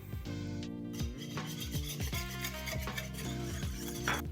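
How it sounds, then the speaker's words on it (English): Whisk rasping and clinking against a bowl while olive oil is beaten into a yeast mixture for cheesy bun dough, quick repeated strokes close up, no speech. "I'm gonna whisk this in with the yeast mixture."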